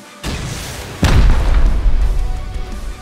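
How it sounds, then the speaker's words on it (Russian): A video-game explosion as the last enemy is blown up: a short thump, then a heavy, close boom about a second later that rolls into a long, loud rumbling tail. "Я сейчас взорву последнего."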